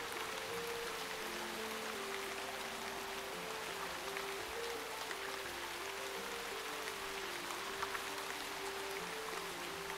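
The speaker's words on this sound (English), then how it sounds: "Oh, there's the rain. Now we see the rain." Steady rain falls without pause in the fantasy role-playing game Shroud of the Avatar, a dense, even hiss under a faint looping musical tone, with no talk.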